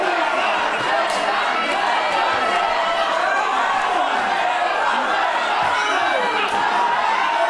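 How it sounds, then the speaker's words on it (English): A dense wrestling arena crowd roars and cheers continuously for Senza Volto and Crowchester, loud and steady with shouts and chatter mixed in. "Listen to the dichotomy of crowd support here for Volto and Crowchester."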